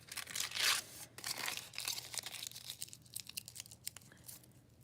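Tinfoil is torn and crinkled by hand as it is shaped into small feet and legs, giving close, quiet bursts of crackling and rustling that come in irregular clusters, with no talking.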